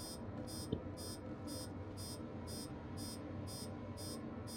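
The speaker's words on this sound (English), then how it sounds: "Is the screen still going to be beeping at me?" A ship's cockpit screen in the game Star Citizen beeping steadily, about ten evenly spaced high-pitched tones over a constant low hum, fairly quiet.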